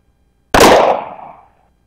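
A 9mm full metal jacket round fired into plumbers putty gives a single loud, sharp gunshot crack up close, then a short ringing decay that dies away in about a second.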